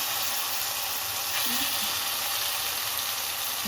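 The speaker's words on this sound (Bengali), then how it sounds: "এখন আমি ভালোভাবে আলুটাকে টমেটোর সাথে মিশিয়ে দিচ্ছি, আর এখন ভালোভাবে কষিয়ে নেব আলু আর টমেটো একসাথে" Boiled potato being stirred into tomato cooked down in oil in a frying pan, a steady close sizzle and hiss running throughout, with a faint scrape of stirring partway through.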